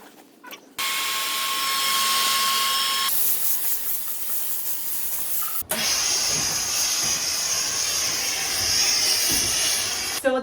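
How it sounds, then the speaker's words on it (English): A hair dryer drying a vintage wedding dress at a dry cleaner's blows with a loud, steady whirring hiss, cutting out briefly and starting again at a higher pitch, running close by. "now we're going to use a dryer to help the speeding of the drying"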